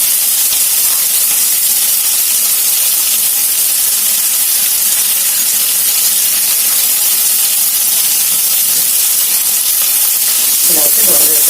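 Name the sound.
green chillies and onions frying in a pan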